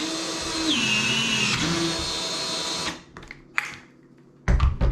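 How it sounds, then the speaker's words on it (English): A battery-powered PEX crimp tool squeezes a 1 inch fitting: a steady motor whine that shifts pitch mid-run, cuts off after a few seconds, then is followed by a few sharp clicks and a final loud clack close by. "That's a much better crimp. That'll hold."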